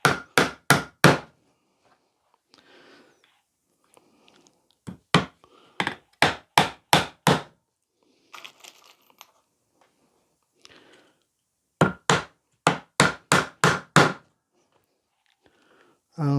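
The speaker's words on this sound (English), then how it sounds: "But I am nailing this basically from the inside, or what will be the inside." 30mm nails hammered into pallet wood for a planter, with loud, close hammer blows landing in quick bursts of four or five strikes, separated by pauses filled with faint shuffling.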